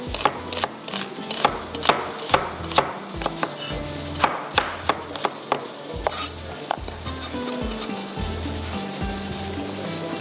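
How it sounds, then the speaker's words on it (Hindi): A knife chops onion on a board in quick, uneven bursts of sharp close thuds that repeat throughout, with a light clatter of kitchen noise underneath. "प्याज को थोड़ा सा आपने ऑमलेट की तरह कटिंग करना है"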